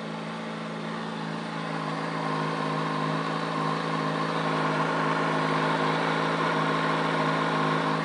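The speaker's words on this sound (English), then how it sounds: "So I turned the motorcycle on" A motorcycle engine idles at close range, a constant low rumble and hum holding even throughout with no talking.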